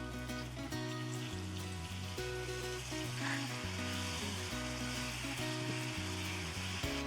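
Green chillies sizzling in a pan with turmeric and lemon juice for a lime-chilli pickle, a steady bubbling hiss running throughout under music, with no speech.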